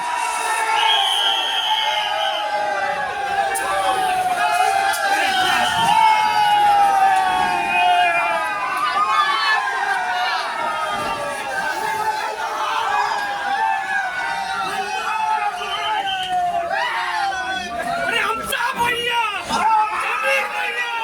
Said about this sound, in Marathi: राजापूर शहरात प्रचंड जल्लोष साजरा करण्यात आला